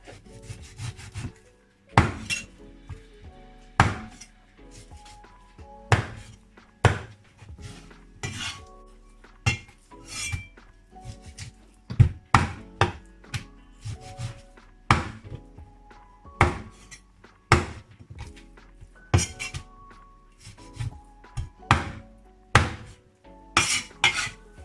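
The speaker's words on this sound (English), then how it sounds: "Cut the pork into strips first, and then cut the strips into bite-sized chunks." Pork shank being chopped into bite-sized chunks on a wooden board, a long series of close, sharp knife thuds in uneven bursts with quieter scraping and rubbing between cuts.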